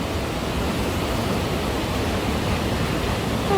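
Near a hiking trail in Oye, Norway, a close waterfall pours with a steady, dense rushing hiss that holds at constant loudness throughout.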